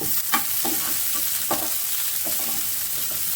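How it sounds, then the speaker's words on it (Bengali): Boiled beans and greens tossed into hot oil, a loud, steady sizzle with a few scraping stir strokes, close and without talk. "সিদ্ধ করে নিচ্ছি এখন তেলে দিচ্ছি"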